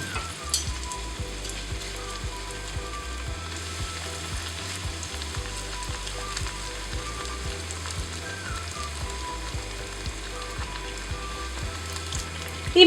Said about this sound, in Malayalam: അപ്പോൾ നമുക്ക് ഇതുപോലെ ബ്രെഡ് പീസസ് ഇട്ടിട്ട് അത് ഫ്രൈ ചെയ്തെടുക്കാം.